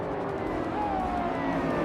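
A 2018 Ferrari 488 Pista supercar races among other cars, its engine a steady, loud drone with a gliding pitch under the sustained roar of the pack.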